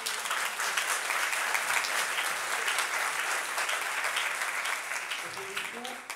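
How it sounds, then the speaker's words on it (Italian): A parish gathering gives a steady round of applause for their priest, even and sustained, with a voice briefly heard near the end. "Possiamo fare anche un applauso."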